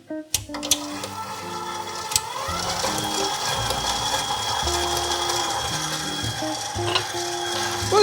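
A stand mixer paddle creams shortening for molasses cookies, the motor starting after a few clicks and settling into a steady whirring mechanical drone with a rhythmic thump and a couple of knocks against the bowl, no voices.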